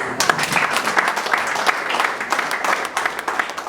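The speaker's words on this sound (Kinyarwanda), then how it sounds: "munyemerere tubakiriza amashyi n'abantu" Sustained applause from a crowd at a church gathering welcoming guests, dense steady clapping throughout at close range with faint voices mixed in.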